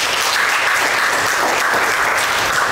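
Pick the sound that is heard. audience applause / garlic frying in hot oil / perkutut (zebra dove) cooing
audience applause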